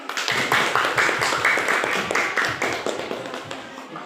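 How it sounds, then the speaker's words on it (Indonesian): A classroom of children applauds a student group, quick uneven clapping from many hands that starts sharply, stays lively for several seconds and then slowly thins out, fairly close. "beri aplaus kepada kelompok terakhir"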